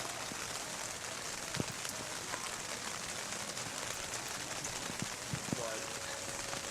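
Steady rain hissing down over a night-time USL Pro soccer match between Antigua and Harrisburg, a continuous wash of noise with a few faint knocks within it.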